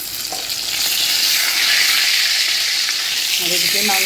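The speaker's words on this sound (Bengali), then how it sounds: "বেগুন ভাজি বসিয়ে দিলাম।" Eggplant slices (begun bhaja) sizzling steadily in a hot pan, a loud continuous crackling fry with a few brief higher tones near the end; no voices.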